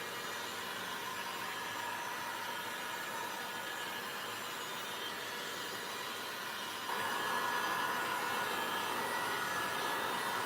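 A heat gun set low blows over fresh resin in a silicone mold, making a quiet, steady airy whoosh that grows slightly stronger partway through and runs on without a break.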